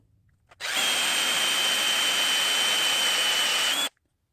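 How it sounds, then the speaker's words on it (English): A power drill in low gear runs steadily for about three seconds at a low, even speed, close and loud, starting and stopping abruptly. "I switched to low gear to limit my RPM, but also to get more torque on the drill itself."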